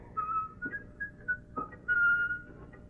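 Someone whistles a short, wandering tune of clear tones in a western film scene, bright notes broken by small pauses and ending on a longer held pitch, with no talking.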